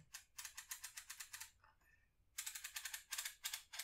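Rapid crisp clicks as the aperture ring of a Fuji GW690III or GSW690III medium-format camera turns through firm detents, two quick bursts separated by a short quiet gap, close up.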